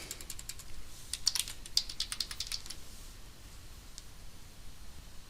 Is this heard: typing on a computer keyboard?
yes